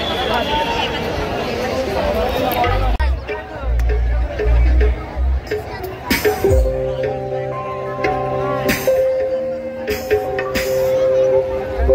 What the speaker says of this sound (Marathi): खूप सारी गर्दी पण आहे